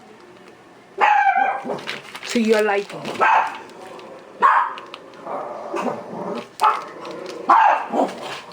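Dogs bark and yip playfully in a home kitchen during cheesecake making, several sharp barks with growly bursts spaced over the span, close and fairly loud, with a person speaking briefly among them.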